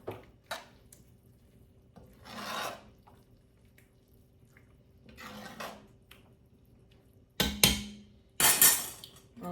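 Spoon stirring smothered okra in a pot, scattered bursts of wet scraping and a few sharp clinks of metal against the pan, separated by quiet pauses.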